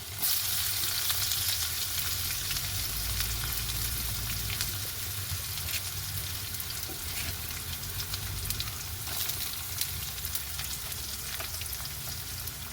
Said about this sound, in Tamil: இஞ்சி உள்ளி செத்தல் மிளகாய் இவ்வளத்தையும் சேர்த்து தாளிக்க போகிறோம்